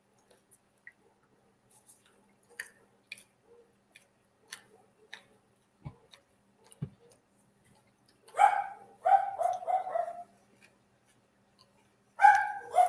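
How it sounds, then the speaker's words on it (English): A dog barks in a few short, sharp bursts after a stretch of scattered quiet clicks and taps, the barks fairly close and grouped in quick runs. "Is that Bjorn barking at you?"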